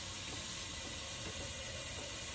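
A kitchen tap runs steadily, water from a distant hot-water tank splashing into the sink as a continuous broadband rush, close and even throughout with no talking.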